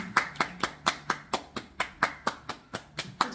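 Steady hand clapping, about fourteen sharp claps in an even quick rhythm, close and clear with no talking.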